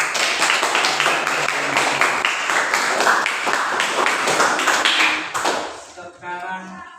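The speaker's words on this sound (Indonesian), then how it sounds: "Tepuk tangan." A classroom group of students clapping hands together, a dense run of claps for about five seconds that stops abruptly, with a little talk and noise after.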